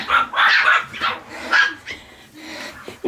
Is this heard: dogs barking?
yes